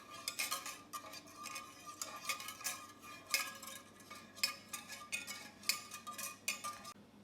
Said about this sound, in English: Now we mix this whole thing together so it's nice and incorporated